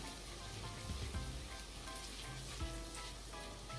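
Curry powder sizzling and frying in a pan for coconut yellow rice, a steady dense crackle holding at even loudness throughout with no talk.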